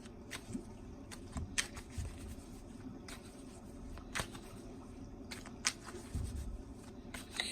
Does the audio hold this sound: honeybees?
no